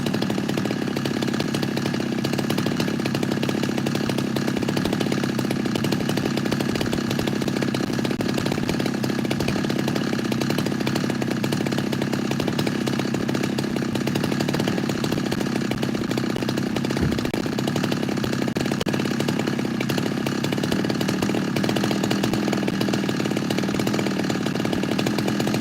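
A chainsaw with a modified muffler running continuously at high revs, a loud, raspy, steady drone close by in a forest, with no talking.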